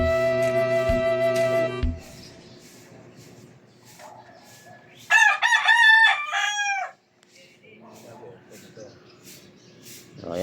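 A rooster held ahead of a cockfighting match crows once, loud and close, in the middle of a steady low background hum. A sharp tonal chime sounds just before it.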